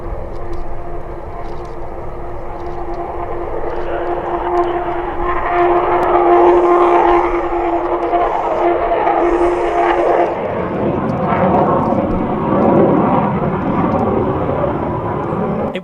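A U-2 spy plane takes off from a runway on a scorching hot day, its jet engine a loud, sustained roar with a steady whine that swells midway, then broadens into rumbling noise as it climbs away.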